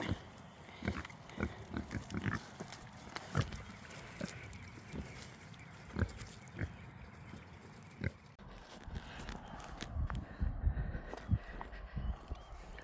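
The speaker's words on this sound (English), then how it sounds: "Hey little piggies." Young piglets in a farm pen grunt and oink in short, irregular bursts, close by, with some shuffling and trotting footsteps on the ground mixed in throughout.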